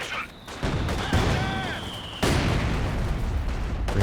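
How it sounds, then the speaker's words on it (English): A Panzerfaust anti-tank weapon fires in Company of Heroes 2, with two heavy explosive bursts that leave a rumbling wash of battle noise behind them, along with scattered gunfire and a commentator talking over the action. "Panzerfaust coming in."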